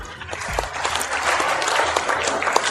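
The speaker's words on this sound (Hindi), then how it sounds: "जोरदार तालियों से अभिनंदन कीजिए, स्वागत कीजिए" Loud, sustained applause from an audience at an unveiling ceremony for new district foundation plaques, with dense clapping filling the space and a few brief sharper claps and faint background voices.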